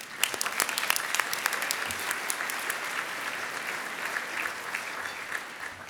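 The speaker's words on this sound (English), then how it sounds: "Let's give a round of applause for all of our sponsors." An audience at a summer program closing ceremony claps for its sponsors, a dense burst of applause that starts strong and tapers slightly as it continues.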